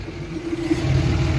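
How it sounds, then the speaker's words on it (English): A heavy Cummins diesel truck engine's exhaust brake rumbles and chatters at a steady low pitch while towing a boat, a deep stuttering exhaust note building slightly, close by with no voices. "listen to that exhaust brake."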